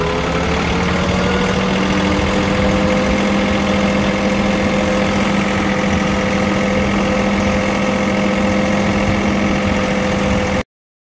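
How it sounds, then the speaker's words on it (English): A tractor engine runs steadily at idle on a maple sugaring farm, a loud, close, even drone with a low hum that holds throughout, then cuts off abruptly at the end. "Got the tractor back inside."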